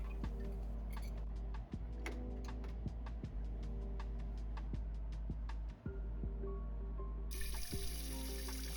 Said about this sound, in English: And we're just filling a pot full of water,